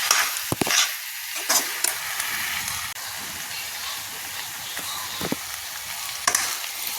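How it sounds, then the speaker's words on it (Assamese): Pointed gourd stir-fried with ginger and garlic sizzles steadily in a hot pan, with a constant frying hiss and a few sharp scraping stirs of the spatula, close and loud, no voices. "এফালে ভাজিটো আৰু এবাৰ লৰাই লওঁ"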